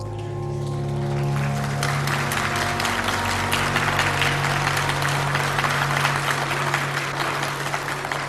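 Sustained applause from the audience at a New Right congress, a dense steady roar of many hands clapping that swells and holds for several seconds, with a faint tonal hum underneath.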